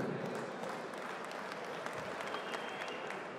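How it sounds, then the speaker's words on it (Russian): An arena crowd at a boxing event claps continuously for a few seconds, a fairly quiet, even patter of applause with no voice over it. "Аплодисменты."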